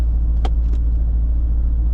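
Low, steady engine rumble from a 2002 Chevrolet Corvette C5 Z06, heard close as a constant deep drone with a couple of brief higher clicks or knocks early on.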